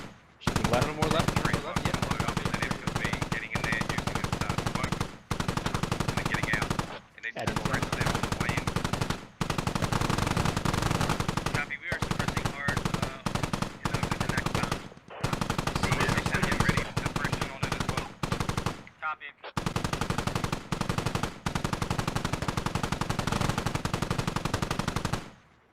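Sustained machine gun fire in the military shooter Squad comes in long, loud bursts with only brief gaps between them. Voices speak faintly underneath.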